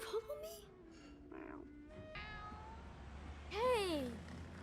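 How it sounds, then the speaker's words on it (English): A cat meows in a cartoon, giving several short, close mews and a drawn-out rising and falling meow near the end, over quiet room tone. "Is that a cat?"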